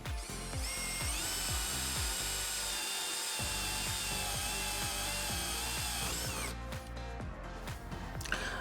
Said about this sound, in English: I've got only one more bit to use, that's the plug cutter. Let's see how it performs with that.